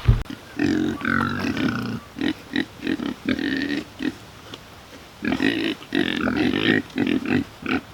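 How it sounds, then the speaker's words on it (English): Pigs grunt repeatedly at close range as they are let through a fence into a new area, with bursts of deep grunting and snorting coming in irregular clusters and brief pauses between them. "I think the pigs are actually ready to move, and I'm going to shut the fence off and let these guys in"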